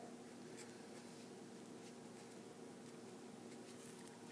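Pen writing out an equation on a surface during a calculus lesson, with faint steady scratchy strokes over a constant low hum of room noise.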